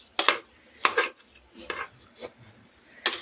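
Raw ration rice being stirred in a pot for biryani, with four separate scraping, clanking strokes of a spoon against the metal, spaced irregularly and fairly close.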